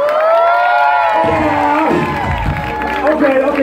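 Crowd at a Koo Koo Kangaroo rap battle in a Boston club breaks into loud, sustained cheering, whooping and applause, with voices shouting throughout and a swell of noise toward the end.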